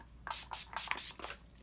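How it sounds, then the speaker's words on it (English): Four quick, close hissing bursts from a makeup setting spray bottle, evenly spaced, in a quiet room. "we have to do one more spray just to really lock everything in"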